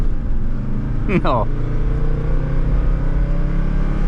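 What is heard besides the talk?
1981 Mercedes 300D diesel car accelerating from standstill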